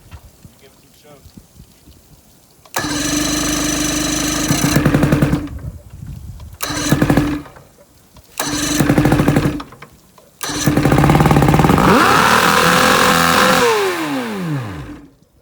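An outboard motor being swapped on a boat sputters to life on choke, running in several loud bursts that cut out between attempts, then revs up steadily, with a voice talking briefly alongside.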